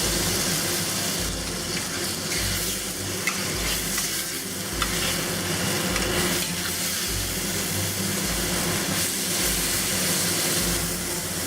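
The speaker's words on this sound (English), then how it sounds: "You want to just let it sear on one side for about 30 seconds." Fish fillet sears in a hot wok for a Sichuan-style stir fry with pickled chili, giving a loud continuous sizzle and hiss with a steady low rumble beneath, close and unbroken throughout.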